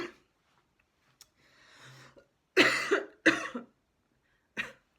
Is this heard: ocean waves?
no